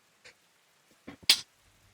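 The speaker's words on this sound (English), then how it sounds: "Oh god, I'm gonna sneeze." A person sneezing nearby during a tabletop Dungeons and Dragons session: a brief sharp burst after a couple of small catching breaths, then quiet.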